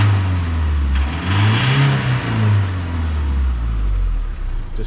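A large Iveco Daily 3.0 diesel van engine revs hard nearby, its loud, rumbling roar rising and falling through the whole stretch with no talking.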